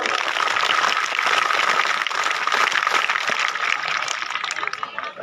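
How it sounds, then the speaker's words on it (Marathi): Children applauding together at a school annual gathering, a dense, loud wash of clapping from many small hands that holds steady throughout, with some voices mixed into the crowd. "टाळ्या कशा झाल्या पाहिजे बघू"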